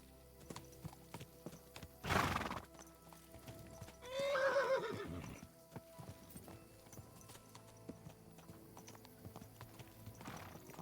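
Horse hooves clip-clop over a steady background while a horse gives one loud whinny partway through, with a sharp snort or stamp just before it, set in the medieval world of Kingdom Come Deliverance 2.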